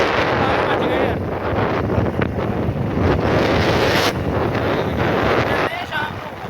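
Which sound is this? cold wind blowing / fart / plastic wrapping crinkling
cold wind blowing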